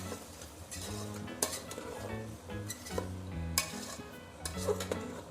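Vegetables with green chillies being stirred in a pot for vegetable biryani, with soft scraping and clinks of the utensil against the pan, repeated in an uneven rhythm over a faint background hum of cooking.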